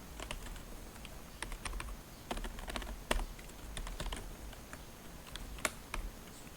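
Rapid, uneven clatter of keys on a computer keyboard while someone writes JavaScript code, with steady close keystrokes and a few sharper, heavier taps, no voices.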